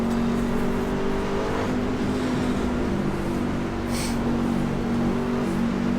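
A Class C racing truck engine at Michigan in the iRacing sim game holds a steady, loud drone with a sustained tonal hum and slight pitch shifts, with no talk.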